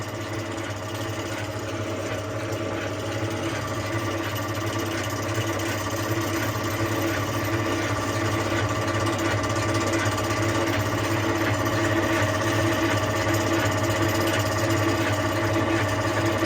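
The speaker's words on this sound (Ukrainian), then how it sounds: "Чотирьохкіловатний двигатель тут стоїть" An MP-100 machine driven by a four-kilowatt electric motor runs with a steady, loud mechanical drone and a low hum. The sound stays constant with no pauses or voices.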